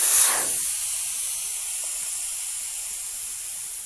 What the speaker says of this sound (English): Then they remove the valve core from the tire to lower the tire pressure.